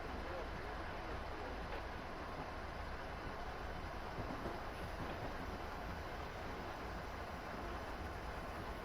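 A freight train in a railway simulator game rolls down Sherman Hill under a 40 mph limit, giving a steady, even rumble with broad wheel and track noise throughout and no distinct horn or voice.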